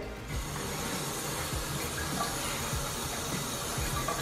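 Water running from a faucet into a one-piece vanity sink in a remodeled bathroom, a steady, close, rushing hiss that starts abruptly and continues evenly without speech.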